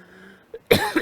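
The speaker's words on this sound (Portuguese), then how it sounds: "Deixa eu morrer de tosse aqui." A single harsh cough bursts out near the end of the second, loud and close, after a faint earlier throat noise, with a small follow-up hack trailing it.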